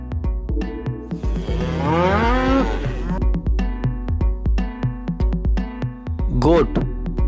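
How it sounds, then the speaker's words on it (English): A cow moos once in a long, drawn-out, wavering call over a steady musical backing with regular beats. "Cow."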